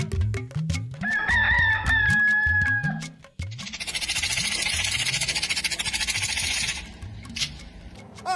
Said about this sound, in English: Every morning as the cock crows